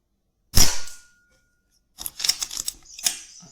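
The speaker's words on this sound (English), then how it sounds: "I'm going to shoot that rat." A Kral Arms Puncher Jumbo air rifle fires a pellet at a rat in a garden: one sharp, close crack, a second of silence, then a quick cluster of smaller clicks and taps, with no voices.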